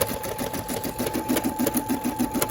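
A Brother SE600 embroidery machine stitches a design, a steady, rapid mechanical whir with a rhythmic needle chatter running close and continuous throughout.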